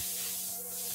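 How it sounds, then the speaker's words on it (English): Bug spray hissing from an aerosol can in a Bluey video game, a steady, loud continuous spray lasting about a second and stopping abruptly, with no talk over it. "Quick, the bug spray!"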